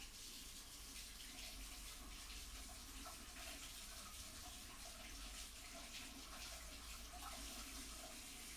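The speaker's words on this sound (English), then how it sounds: "I go and wash my brush, alright? Under water" A paintbrush is rinsed under running tap water, a steady, fairly quiet rush of water from the faucet that continues unbroken, with no voices.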